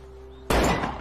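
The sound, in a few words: door being broken down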